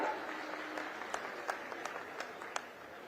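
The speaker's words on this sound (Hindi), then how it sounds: "और एक बार सब मंचस्थ अतिथियों के लिए जोरदार ताली बजा के स्वागत कर दो, जोरदार ताली" An audience at the opening of the Surguja Olympics 2026 event in Ambikapur claps to welcome guests on stage, a soft sparse patter with a few sharper individual claps standing out, fairly distant.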